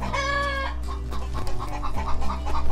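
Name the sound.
chickens clucking and crowing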